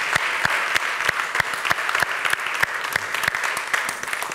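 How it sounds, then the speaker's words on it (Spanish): Audience applause at a Barcelona interactive documentary and virtual reality event, a steady dense patter of many hands clapping at close range with sharp individual claps standing out, continuing without talk for several seconds. "Un gran aplauso para ellos."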